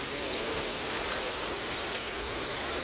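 Heavy rain pours steadily and loudly, a dense, even hiss of drops drumming on surfaces close by with no break or voices.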